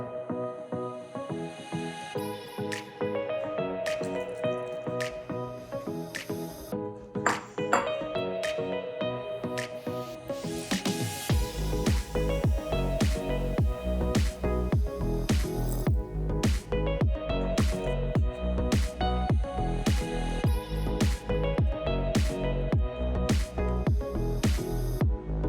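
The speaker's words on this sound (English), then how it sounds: "Stir it up really good." Lemon donut batter is stirred in a bowl, a wet rhythmic squishing and scraping that repeats steadily and grows louder and more regular in the second half, with music-like tones in the background.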